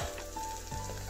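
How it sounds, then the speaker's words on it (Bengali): Bitter gourd frying in a covered pan, a close, continuous soft sizzle with a brief bump of lid or pan noise partway through. "ঢাকা দিয়ে ভালো করে ভেজে নেব"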